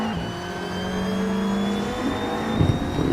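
A 2018 BMW 220i race car engine during a race gives a steady mid-pitched drone with whining harmonics that shift slightly, a rougher surge near the end, fairly close and unbroken, with no talk.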